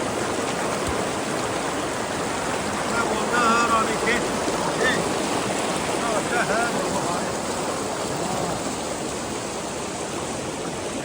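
The Ranga River rushes steadily at Ranikhet, a loud, continuous close wash of flowing water that never lets up, while someone talks over it.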